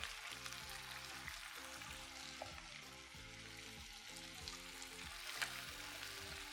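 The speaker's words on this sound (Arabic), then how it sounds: "جايبين بقى الرز ده حاطينه هنا، عايزينه يتشوح شوية مع السمن" Rice sautéing in ghee gives a soft, steady sizzle with a faint crackle throughout, low in level, while a muffled tonal hum carries underneath it and no one speaks.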